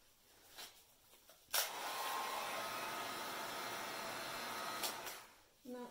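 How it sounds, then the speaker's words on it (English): A hair dryer blows across resin poured on coasters, switching on abruptly with a click, holding a steady loud whirring rush for about three seconds, then cutting off. "So I am using my hairdryer."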